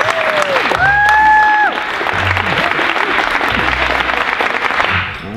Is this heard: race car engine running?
no